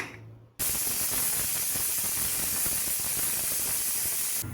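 A pressure cooker of Nonbu kanji, rice porridge, lets off steam through its weight: after a short quiet moment a loud, steady hiss bursts out and holds unbroken at full strength, close by and alone.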